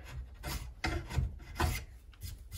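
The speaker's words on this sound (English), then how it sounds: "This Lansky puck, it ain't good enough for sharpening." A Lansky sharpening puck rubs against the edge of a draw knife in short, close rasping strokes, several passes in quick succession with no voices.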